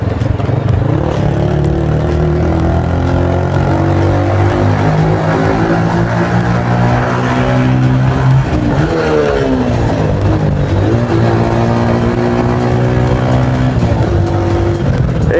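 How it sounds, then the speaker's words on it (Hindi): Loud, continuous roar of a Hero Splendor motorcycle with an aftermarket exhaust echoing inside a road tunnel, the engine note rising and falling through gear changes as it rides at speed, with no talking. "यहाँ पे जो है टनल आती है, और भाई अब मैं आपको जो है साउंड सुनाता हूँ"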